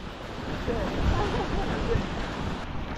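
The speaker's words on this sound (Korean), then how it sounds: "파도가 센데?" Strong surf breaking at Haeundae beach, a steady wash of roaring waves mixed with wind buffeting the microphone, while people talk over it.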